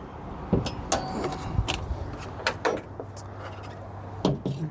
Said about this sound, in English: let's pop the hood real quick